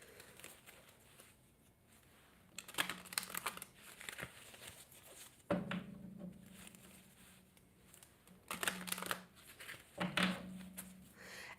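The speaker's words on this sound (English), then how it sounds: "Let me go ahead and shuffle these a little bit." Someone shuffles a deck of oracle cards close and quietly, with soft papery riffles and rustles in irregular bursts and gaps of near-silence.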